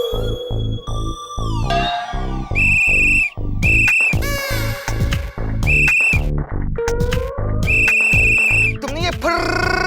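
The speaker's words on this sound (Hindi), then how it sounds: "तुमने ये फर्र वाली सीटी कैसे बजाई?" A shrill whistle is blown repeatedly to direct a traffic jam, loud, sharp blasts in quick succession, set over a busy, rhythmic music score with sound effects.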